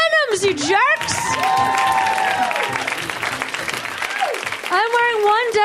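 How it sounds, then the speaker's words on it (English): A comedy club audience gives thin, patchy applause, heard mostly under a comedian's loud, animated talking that dominates the moment. "That is the shittiest round of applause."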